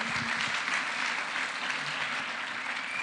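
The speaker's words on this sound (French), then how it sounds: "Acclamons la parole de Dieu." Church congregation applauding together after a Bible reading, a steady, dense wash of clapping hands filling the room without pause.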